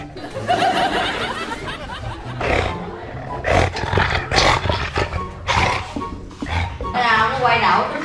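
Low, rumbling dog growls come in repeated bursts, close and loud, with a person talking over and between them.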